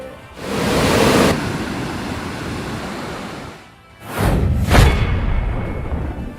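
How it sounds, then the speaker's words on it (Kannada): Sirimane Falls near Sringeri in Chikkamagaluru, swollen by heavy monsoon rain, sends water plunging between rocks. A loud, broad roar surges, dips briefly, then returns even stronger, with no voices. "ನೂರಾರು ಅಡಿ ಎತ್ತರದಿಂದ ಬಂಡೆಗಳ ನಡುವೆ ನೀರು ಧುಮ್ಮುಕ್ಕುತ್ತಿದೆ"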